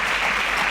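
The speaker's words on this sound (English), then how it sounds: "A round of applause for them." Audience applause at a Nigerian student quiz show, a short burst of steady, dense clapping filling the whole moment with no pause.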